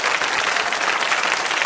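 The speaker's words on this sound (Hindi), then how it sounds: "तालियां जोरों से बजाइए इनके लिए।" Steady, dense applause from a school audience rewarding a quiz contestant's correct answer at a Mahaveer Digambar Jain School quiz show; continuous clapping without voices over it.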